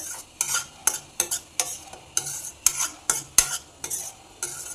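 Spoon stirring chili powder, half a spoon of turmeric and coriander-cumin powder into a restaurant-style veg kofta curry, with repeated scraping strokes and a faint sizzle from the pan, close and clear with no talking.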